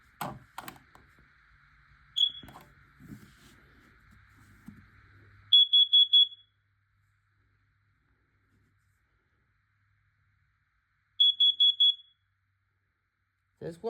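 A smoke alarm sounds during a home system test of smoke and CO alarms, giving two short bursts of rapid loud beeps several seconds apart, after brief talk and a button press at the start.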